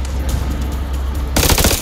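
Gunfire bursts from the video game The Dark Pictures Anthology: House of Ashes, a steady rattle that turns louder and denser for the final half second.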